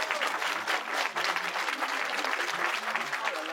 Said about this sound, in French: applaudissements pour Luc